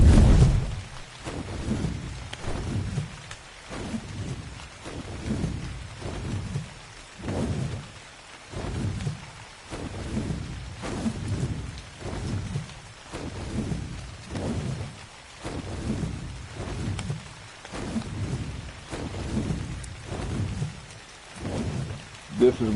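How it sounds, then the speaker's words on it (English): Steady rain falls throughout, with low rumbling surges that return every second or so under the downpour, heard from outdoors at moderate distance. "See, it's still raining and cloudy, so the sun's not really shining that well."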